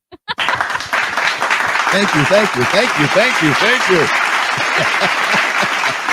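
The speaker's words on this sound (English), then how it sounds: "I need some claps, people." A live-show audience claps for a special guest: a few sharp single claps, then a full, close burst of steady applause that carries on to the end, with a voice speaking over it.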